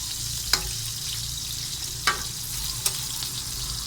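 Mushroom fish cakes frying in hot oil, a steady close sizzle and bubbling with a few sharp spatters and clinks of a utensil at intervals, no talking.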